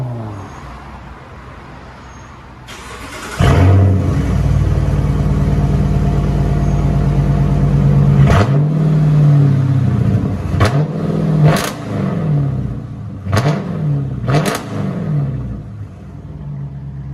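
A Chrysler 300S 5.7L HEMI V8 idles, then roars into a loud, deep rev heard from inside the car, followed by several sharp throttle blips.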